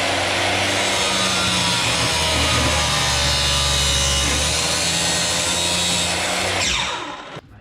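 A power saw cuts through the bottom shaft of a steering column. The grinding cut runs loud and continuous for about seven seconds, then winds down at the end.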